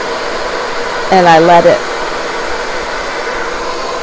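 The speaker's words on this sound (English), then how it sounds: "I have my hair dryer set on the warm setting, so it's not intense heat right now" A hair dryer on its warm setting blows in a steady, loud whoosh throughout, with a brief spoken phrase over the airflow.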